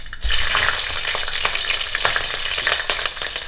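Green chillies hitting hot oil with mustard seeds, a loud, close, steady sizzle and crackle that bursts up at the start and keeps frying with small pops and a stirring scrape.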